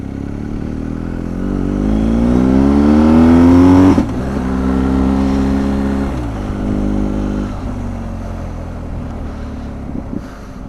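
A BMW R1250 GS Adventure TE Triple Black Edition motorcycle under way, its boxer engine rising in pitch as it accelerates, dropping after a gear change, then pulling again, with steady wind rush over the microphone throughout.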